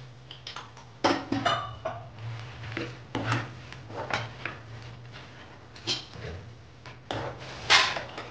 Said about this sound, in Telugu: ఇప్పుడు మనం ఇందులో ఈ పల్లీలు వేసేసి కలిపేసుకుందాం.